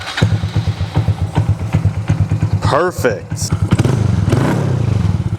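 A Honda Grom motorcycle with a cheap eBay aftermarket exhaust runs close by, putting out a steady, throaty, pulsing idle and then a brief rev. A voice speaks briefly over the engine.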